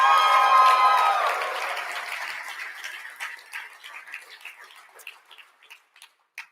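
At a Robinhood live event, a large crowd applauds loudly at first, then the clapping thins out over several seconds into scattered, fading claps until only a few isolated hands remain.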